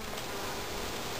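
Bees buzzing around a swarm as a person handles it by hand, a dense steady hum close by with no talk.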